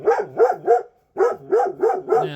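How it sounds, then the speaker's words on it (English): A dog barks in the background on a farm where puppies are kept, two bursts of three to four rapid yips and barks with a short pause between, fairly loud. "As you can hear, Lily's in the background barking."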